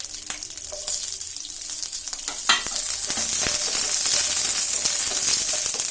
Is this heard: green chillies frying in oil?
yes